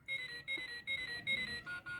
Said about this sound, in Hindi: इसमें 3-4 अलार्म टोन है, जिसको हम लोग अलग अलग सेट कर सकते हैं